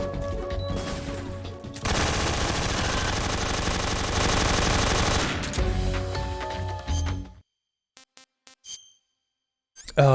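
Sniper gunfire in the Metal Gear video game, a loud sustained burst of rapid shots that cuts off abruptly and leaves a few sharp metallic pings in near silence.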